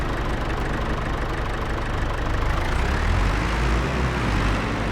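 A John Deere tractor idling in the Farming Simulator 22 video game, a steady low chugging engine drone that holds evenly for several seconds with no talking over it.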